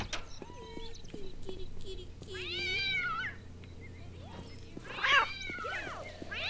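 Cats meowing in the video game Postal 2, several drawn-out, rising and falling meows at moderate loudness over a low constant game background hum, with a louder cluster of cries near the end.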